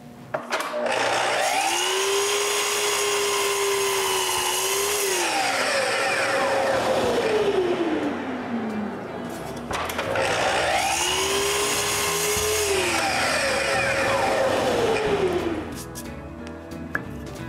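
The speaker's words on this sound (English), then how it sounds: "I use a spacer on the back of the support and set my saw so it won't cut all the way" A power saw cuts into wood while building a wooden bandsaw, set with a spacer so it stops short of cutting through. Two long, loud cuts whine steadily, rising and falling in pitch as the blade loads and frees.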